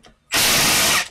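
A ratchet wrench spins bolts on a transmission case during a Rotunda/Mazda transmission rebuild. After a faint lead-in comes one loud, close, continuous burst of rapid clicking, with no talk.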